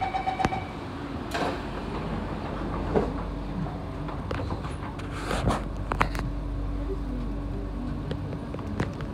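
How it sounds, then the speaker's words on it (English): On a Singapore MRT train the doors slide shut over a steady rumble of the carriage, with a chime at the start and a few clunks and rattles as the panels close. "doors are closing."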